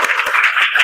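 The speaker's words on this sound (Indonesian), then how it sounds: "Tepuk tangan dulu untuk kelompok" A classroom audience claps briskly for a student group that has just presented, a dense burst of many hands lasting under a second before cutting off abruptly.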